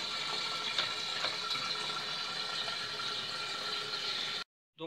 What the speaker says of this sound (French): Voilà, donc là la chasse d'eau se remplit.